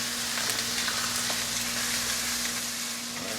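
Salt potatoes rolling in hot oil on a grill give off a steady, dense sizzle and crackle that holds evenly throughout, close and continuous with no talking.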